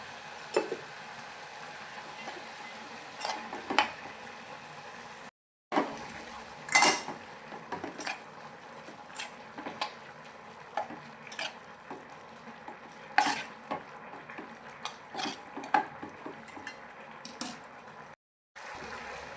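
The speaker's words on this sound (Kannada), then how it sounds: "ಮೆಂತ್ಯ ಹಾಕಿ ಸ್ವಲ್ಪ ಹೊತ್ತು ಫ್ರೈ ಆದಮೇಲೆ" Fenugreek leaves are stirred and fried in a pan: a soft continuous sizzle with frequent spoon scrapes and light clinks against the metal, with a couple of brief silent gaps.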